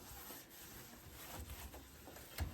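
A gritty sink is scrubbed with soft, irregular rubbing strokes, quiet and close, with a sharper scrape near the end.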